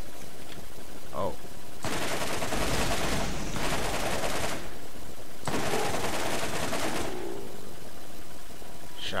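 Shotgun fire in the Borderlands video game comes as two long, loud bursts of rapid blasts, each lasting a few seconds, over a constant background hum.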